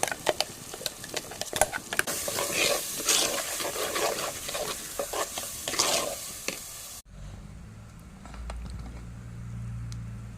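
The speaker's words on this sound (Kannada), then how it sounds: "ಈ ಮಸಾಲವನ್ನು ಹಾಕಿ ಚೆನ್ನಾಗಿ ಫ್ರೈ ಮಾಡಬೇಕು" Ground masala frying and being stirred in a pan, a close sizzle under scraping spatula strokes, then after a sudden cut a quieter stretch with a faint low hum and a few light clicks.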